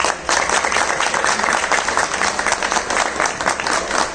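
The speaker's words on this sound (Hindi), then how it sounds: "बहुत बहुत जोरदार तालियां मेरे अपलाइंस के लिए" Sustained applause from an audience at an awards or recognition event, steady dense clapping throughout, loud and close.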